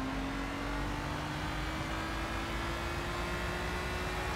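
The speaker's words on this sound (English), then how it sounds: "Right, so the Ferrari is going to overtake us." Ferrari race car in Gran Turismo 6 overtaking, a steady loud engine drone with a slowly rising pitch as it pulls alongside, continuous and alone without talk.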